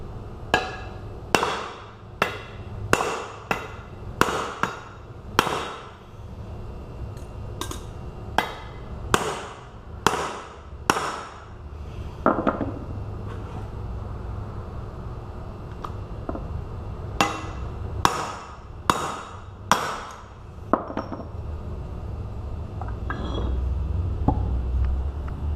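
Sharp metal hammer blows strike a Dodge Caliber wheel hub to knock it out, landing in fast bursts of repeated hits with short pauses between groups.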